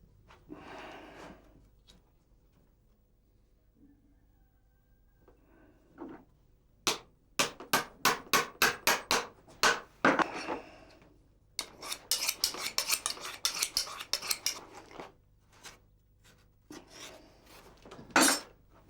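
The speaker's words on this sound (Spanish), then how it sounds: "Emilio sujeta con clavos la plantilla. Sujetar la plantilla para poder trabajar" Nails are hammered to fasten an insole onto a wooden shoe last during handmade leather boot making: a fast run of sharp, evenly spaced metallic taps, then a denser cluster of knocks and scraping, close and loud.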